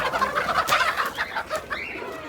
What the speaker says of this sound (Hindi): हमारे मुर्गे और मुर्गियाँ जब बाहर जाने के लिए बेताब है